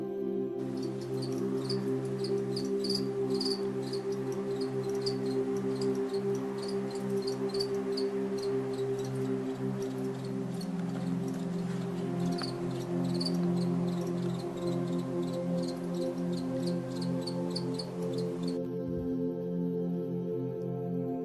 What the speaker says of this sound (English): You may be wondering what would be the real voice of a cricket. I'll make you to hear it.